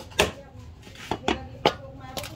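Native chicken being chopped for adobo, a handful of sharp blade strikes landing at uneven intervals, fairly close, with low voices murmuring in the background.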